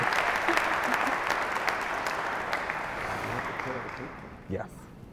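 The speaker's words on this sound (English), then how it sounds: "how about an applause for this newly married couple?" Wedding guests applauding a newly married couple during a church ceremony, a sustained crowd of clapping that thins gradually, with a single voice briefly rising over it near the end.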